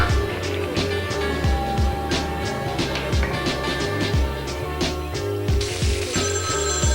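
A telephone rings repeatedly in a 1987 crime film scene, its bell bursts pulsing through a dense bed of music and background sound, fairly loud throughout.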